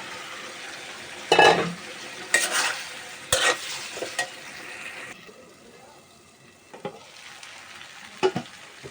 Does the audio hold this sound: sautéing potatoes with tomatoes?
yes